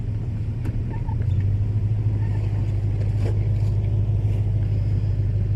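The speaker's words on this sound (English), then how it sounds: "Just gonna leave the truck on." A parked truck idles with its door open, giving a steady low engine rumble throughout, close and constant, with faint rustling and small knocks on top.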